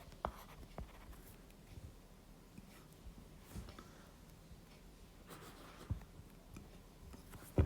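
Handwriting on a surface during a lecture on principal component analysis, faint scratchy pen strokes with a few soft taps, quiet and close with no talk.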